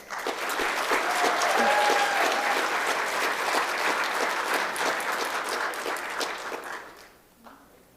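Audience at a university awards ceremony applauding honorees, a sustained round of clapping from a sizeable crowd in a hall that tapers off near the end, with a brief voice under it.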